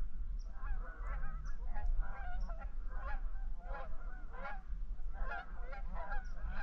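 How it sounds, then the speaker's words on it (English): Geese honking in a marsh at dusk during a kayak duck hunt, a loose flock calling repeatedly at moderate distance over steady low wind rumble. "Get a shot at some of these geese."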